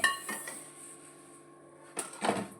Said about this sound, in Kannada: ಈಗ ಫ್ರೈಡ್ ರೈಸ್ ಮಾಡಲಿಕ್ಕೆ ಬಾಣಲೆಯನ್ನು ಇಟ್ಕೊಂಡಿದ್ದೇನೆ ಅದನ್ನು ಗ್ಯಾಸ್ ಆನ್ ಮಾಡಿಕೊಳ್ತೇನೆ